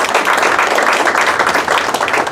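Audience applause for a primary-level school team at a meeting of school directors at UGEL Chincha, a steady, dense wash of clapping that holds evenly for a couple of seconds without voices.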